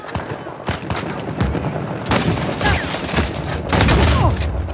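Grenade throws and bursts of gunfire in the shooter game Uncharted 4 during a bounty hunters match, with rapid shots building into louder, dense blasts around the middle and near the end.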